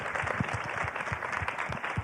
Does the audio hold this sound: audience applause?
yes